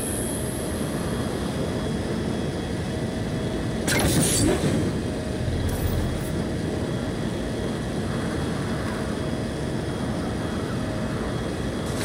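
A hover bike in Saints Row gives off a steady, droning engine hum held at an even level, with a brief louder burst of rushing noise about a third of the way through and a short flutter soon after.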